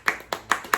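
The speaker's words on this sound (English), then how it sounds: "just clap for yourself?" One person clapping hands alone, four sharp close claps at a quick, even pace.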